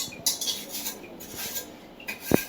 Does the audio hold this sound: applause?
no